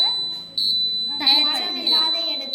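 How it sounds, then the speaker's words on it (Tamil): An earthquake warning alarm sounds in a steady, shrill, high-pitched electronic tone, repeating in bursts and fairly close, with a person talking over it. "இந்த இடத்துல நம்மளுக்கு நிலநடுக்கம் ஏற்பட்டால் இந்த அலாரம் அடிக்கும்"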